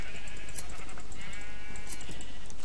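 Sheep bleat in the video game Pixel Multiplayer, a few wavering calls layered over a dense, constant game soundscape with no talking.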